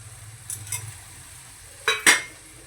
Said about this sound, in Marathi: चांगले परतून घेऊया आपण तीन सुटेपर्यंत टाकूया ते उकडलेले बटाटे